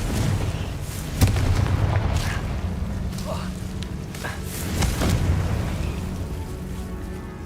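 Confringo explosion spells go off in a wizarding video game, deep booming blasts landing one after another under continuous rumbling game sound, with a player talking over the action.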